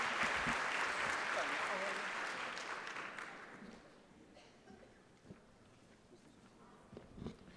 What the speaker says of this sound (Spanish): ustedes mismos se den un aplauso por venir a conocer sus responsabilidades